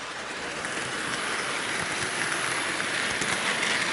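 A Hornby model train rolls along its track with a steady, rushing rattle that grows slightly louder over a few seconds.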